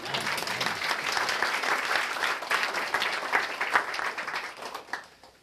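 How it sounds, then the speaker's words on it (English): An audience applauds Sophie at a cultural forum lecture, steady dense clapping that holds for several seconds, then thins and fades toward the end. "Can we have a round of applause for Sophie?"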